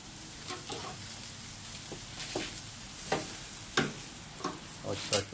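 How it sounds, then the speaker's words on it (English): Meat sizzling on a barbecue grill after a flip with round-tipped tongs, a steady fizzing hiss broken by several sharp clicks and scrapes of the tongs against the grate. "Now I'm going to use the tongs to flip our meat over"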